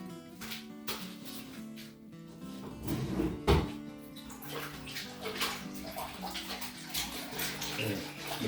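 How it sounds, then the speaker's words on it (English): Water sloshes and splashes in a tub as hands swish through it to mix in detergent, irregular bursts of churning with occasional knocks, close by and without talking. "I'm going to go ahead and use my hands to mix this water up."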